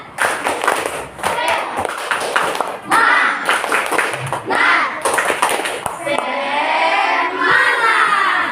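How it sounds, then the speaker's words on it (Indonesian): A sixth-grade class performs the rhythmic tepuk semangat spirit clap, loud sharp hand claps in a patterned beat mixed with children's chanting voices, close and energetic. "Tepuk semangat"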